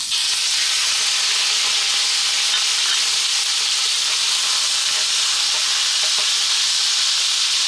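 Beef sautéed in oil for spicy adobo gives a loud, constant hissing sizzle close to the pan, steady throughout with faint stirring clicks and no voices.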